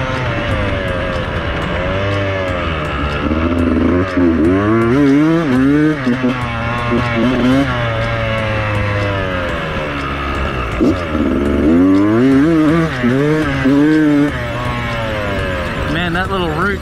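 A Beta 300 two-stroke dirt bike revs and bogs as it is ridden, its engine note rising and falling in repeated sweeps, loud and close throughout with a rider talking over it.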